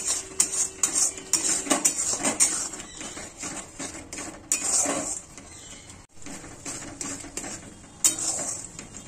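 Lote fish jhuri being stirred in a kadai, repeated metal spatula scrapes and clinks against the pan over a light sizzle, close and fairly loud in uneven bursts.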